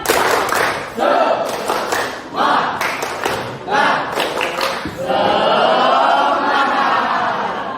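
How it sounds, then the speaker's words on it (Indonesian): A classroom group performs a rhythmic spirit clap (tepuk semangat), with sharp bursts of clapping in a patterned beat mixed with loud voices chanting along. "kita tepuk semangat dulu"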